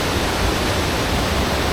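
Waterfall in a dark Yorkshire gorge, a steady broadband roar of falling water that fills the whole clip at constant loudness, with no voices.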